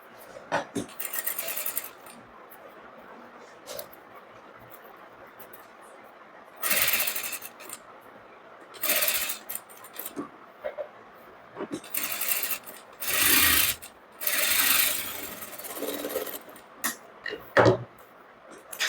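Sewing machine stitching along the folded neckline edge of a three-princess-cut blouse, running in short bursts of a few seconds separated by quiet pauses, close and moderately loud.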